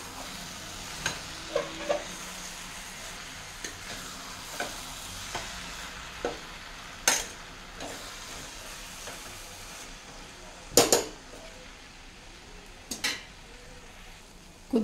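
A spoon scrapes and clinks around a pan of sizzling eggplant and green pea curry with fresh coriander, irregular sharp metal knocks over a soft steady fry, close up with no talking.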